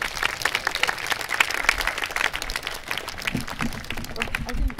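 Concert audience applause welcoming a performer at a memorial anniversary concert, a sustained round of clapping with distinct claps near the microphone and faint voices mixed in.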